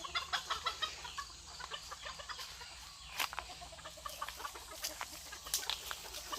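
Free-range chickens on a farm cluck in steady, repeated bursts at moderate distance, with a few sharper squawks standing out above the continuous background of birds.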